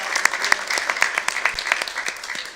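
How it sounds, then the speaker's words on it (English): Attendees at a city council meeting give a short burst of applause, a scattered group of hands clapping unevenly at moderate volume for a couple of seconds. "I'd like for all of y'all to give yourselves a round of applause"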